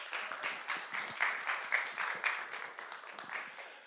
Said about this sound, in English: If everybody could give a warm round of applause for Jack Beck.